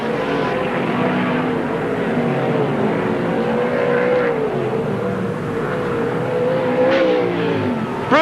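Sprint car engines at the 1988 NSW Sprintcar Championship roar continuously on a dirt track, loud and sustained, with pitch rising and falling as cars accelerate and pass.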